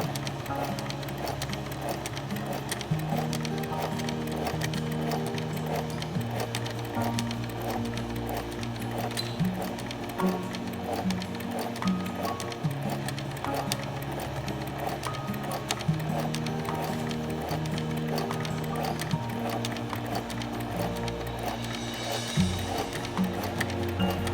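A sewing machine stitches a straight seam along cloth face mask fabric, its rapid steady needle rhythm running continuously and close for the whole stretch with no talking.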